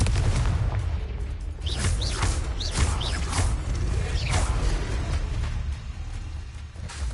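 Confringo blasting spells explode in Hogwarts Legacy, a continuous wash of loud booms and bursts with rising whooshing streaks of spell fire layered over a heavy rumbling low end for several seconds.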